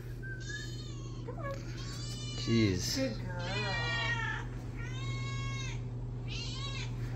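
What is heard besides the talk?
cats meowing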